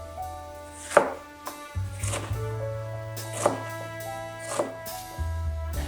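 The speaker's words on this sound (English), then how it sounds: "we're just putting the pieces together and then cutting them into bite-sized pieces" A knife chops bell peppers into bite-sized pieces on a cutting board, giving a handful of distinct, close thunks spaced about a second apart over a low background hum.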